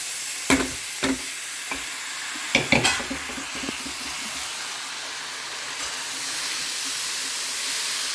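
Washed poha going into a hot pan and being stirred, a few sharp scraping clacks early on, then a steady sizzling hiss that carries on alone.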